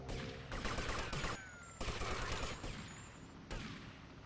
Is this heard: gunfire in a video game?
yes